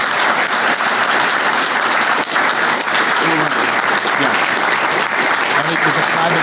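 Loud, dense applause from the crowd at a veterans' recognition breakfast, a continuous roar of many clapping hands close by, with a few voices rising underneath toward the end.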